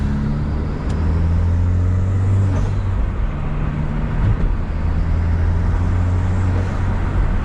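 A stock Genesis Coupe 2.0T turbo fitted with a blow-off valve and cold air intake drones steadily from inside the cabin, with a low engine hum, shifting pitch, and a few brief whooshes rising above it.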